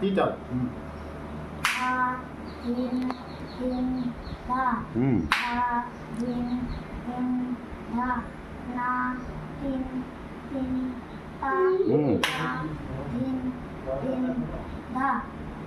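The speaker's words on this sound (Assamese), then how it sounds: "বাছ ত্ৰিতালখন হাতত তালি খালি দিবা" Hand claps mark the tali beats of teentaal during a tabla exam: three sharp, separate claps spread across the passage, heard between and over a person speaking in a rhythmic cadence.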